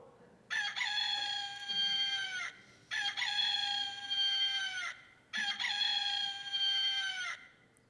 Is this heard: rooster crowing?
yes